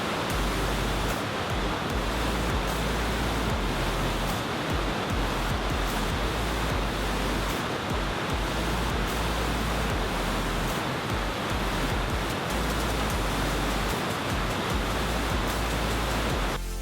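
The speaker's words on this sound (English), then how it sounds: "you see just how insanely fast and tumultuous North America's largest series of standing waves are. Hear and feel the roar." A steady, powerful roar of rushing whitewater from the river rapids' standing waves near Niagara Falls, broad and continuous throughout with no pauses, loud and close.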